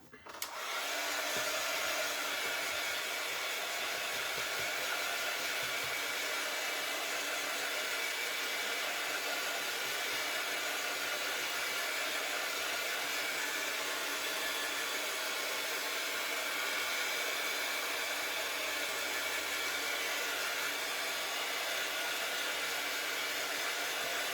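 A hair dryer blows steadily and loudly on a handmade craft wall decoration, a constant broadband whoosh that starts abruptly and runs without a break throughout.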